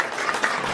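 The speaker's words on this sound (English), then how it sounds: "So give him a round of applause before we bring him up." A brief burst of crowd applause, dense steady clapping from many hands at a talk on Pan-Africanism, cut short after under a second.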